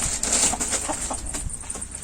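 Chickens cluck softly here and there over a constant high-pitched hum, nearby and without speech, in a barn under construction.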